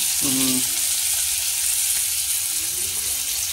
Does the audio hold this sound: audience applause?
no